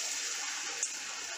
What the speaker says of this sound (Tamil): இப்போ எண்ணெய் காஞ்சிருச்சு, நம்ம ஒவ்வொரு வடையாக போட்டு எடுத்துக்கலாம்.